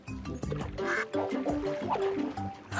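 A cartoon duck gives a run of nasal quacks over busy music and sound effects, several short calls in quick succession, fairly close and loud.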